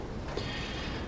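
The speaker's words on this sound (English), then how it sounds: "You might hear some wind noise in the background here." Wind blows outside a small workshop, a faint, steady broadband rush with no distinct events, heard alone for about a second.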